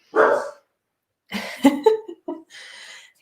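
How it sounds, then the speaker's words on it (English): A dog barks in the background, with one short burst near the start and a cluster of several sharp barks in the second half. The barks are fairly clear against quiet surroundings. "Can you hear Pucky barking in the background again?"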